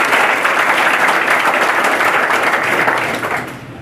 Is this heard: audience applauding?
yes